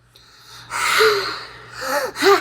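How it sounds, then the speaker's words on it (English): A deep breath drawn in audibly, a sharp gasp-like inhale followed by two more breathy intakes, close and fairly loud over a quiet background hum. "Just one deep breath."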